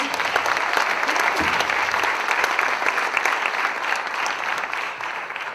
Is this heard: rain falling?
no